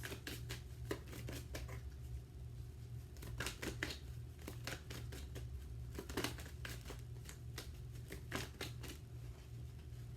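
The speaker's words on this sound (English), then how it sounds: "I shuffle like really crazy" Tarot cards being shuffled vigorously by hand, quiet bursts of papery riffling and slapping in irregular clusters, close to the microphone over a low steady hum.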